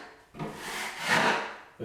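A drywall knife rakes joint compound mud across a wall in a repair, a steady close scraping rub that swells in the middle and runs nearly two seconds, with a short fresh stroke at the end.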